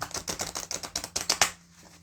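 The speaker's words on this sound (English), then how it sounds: "This cardstock, you can shuffle" A deck of cardstock playing cards is shuffled in a quick, even run of crisp, close clicks for about a second and a half before falling quiet.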